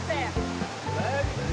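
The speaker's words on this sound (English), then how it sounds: "The beautiful waterfall." A waterfall rushes in a steady broadband roar, with a voice talking close over it throughout the short stretch.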